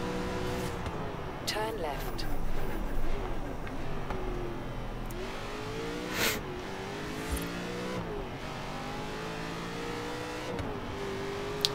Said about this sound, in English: this Mustang sounds like it's got a late engine in it